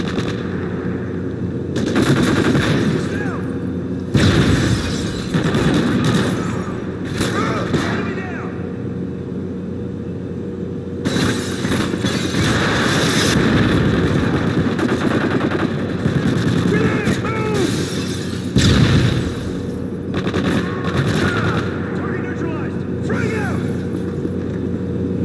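Video game combat with bursts of rapid gunfire and heavy blasts from a Predator missile strike come in dense, overlapping waves, loud and close, with brief lulls between. Radio-style voice callouts sound over the shooting.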